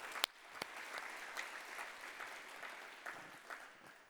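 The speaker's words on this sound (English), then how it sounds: "If you agree, give me an applause." An audience at the World Food Forum 2022 closing ceremony applauds, with scattered sharp claps over a soft wash of clapping, fairly faint and distant.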